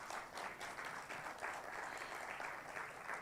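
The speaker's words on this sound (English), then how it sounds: "Help me clap for her," Audience applause at a media handover ceremony, a steady wash of many hands clapping throughout, moderately loud and even, with no talk over it.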